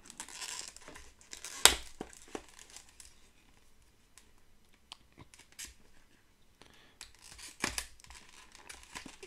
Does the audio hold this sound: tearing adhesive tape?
yes